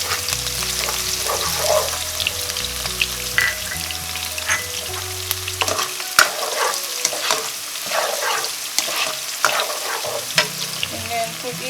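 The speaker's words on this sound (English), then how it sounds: "stir fry it" Lemongrass stir-fried in a hot pan for mee rebus, with a steady close sizzle and frying hiss and repeated scraping strokes of a spatula throughout, no talking.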